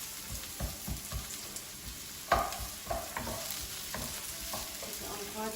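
Sliced vegetables, including sweet peppers, sweat gently in a pan over a low gas flame for chilli veg, a soft steady sizzle broken by the scrape and knock of a wooden spoon stirring, with one sharper clatter midway.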